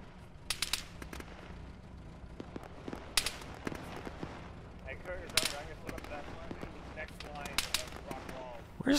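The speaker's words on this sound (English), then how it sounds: "Where's those shots coming from?" Gunshots in an ArmA battle with ShackTac players: sharp single shots and short bursts at irregular intervals, some close and loud and others more distant. Voices talk over the firing at times.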